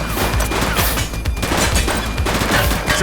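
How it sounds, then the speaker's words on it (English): Gunfire erupts in a police drama shootout, a dense, loud fusillade of rapid shots and bursts running continuously with crashing impacts and no talk over it. "He's shooting!"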